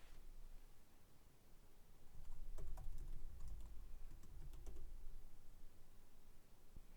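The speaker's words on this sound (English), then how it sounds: "Start typing the name of the organization in the Organization/Group Names search field." Quiet, steady typing on a computer keyboard, with a run of faint rapid key clicks that grows slightly busier midway, heard alone over a soft background hiss.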